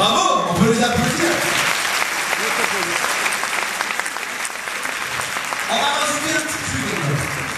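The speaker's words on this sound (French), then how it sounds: "Bravo, on peut les applaudir." Audience applause at a lively French-language show, a crowd clapping steadily and fairly loudly for several seconds, with voices and scattered cheers blending in near the start and end.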